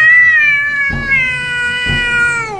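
A cat lets out a long, loud drawn-out meow close by, with pitch wavering, broken by a couple of brief thumps partway through.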